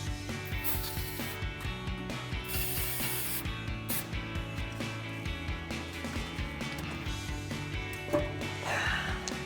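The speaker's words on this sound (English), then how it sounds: "we're going to spray down our last two rubber isolators" A spray can hisses in short repeated bursts onto rubber exhaust isolators under a RAM 1500 pickup, close and fairly quiet, with faint clinks of metal in the background.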